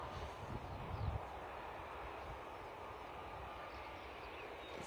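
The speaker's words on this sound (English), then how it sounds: "Very short takeoff as ever from the props." A propeller airliner makes a short takeoff roll at Bristol Airport. Its engine roar is a faint, distant broadband rush that swells briefly near the start, then holds at an even level.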